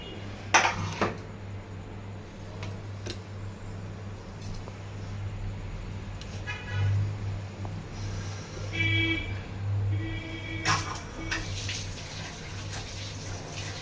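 Vegetables being washed in a home kitchen: water runs steadily with scattered clinks of pots and dishes and a few splashes, heard close and at moderate loudness.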